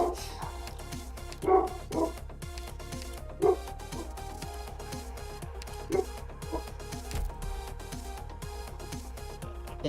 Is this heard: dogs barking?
yes